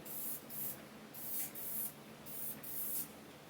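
Spray paint hissing onto the edges of a Ford Mustang SVT Cobra gauge bezel, several short close bursts in an even rhythm with brief pauses between.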